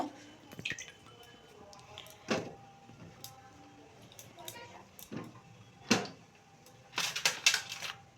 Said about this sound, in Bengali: তারপরে আমি এখানে দিয়ে দিলাম বেগুনগুলো ধুয়ে নেব